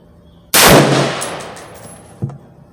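A single sharp rifle shot from an LFA LR precision rifle fired at a target 100 yards away cracks loud and close, then rings out in a long fading echo, with a small clank following about two seconds later.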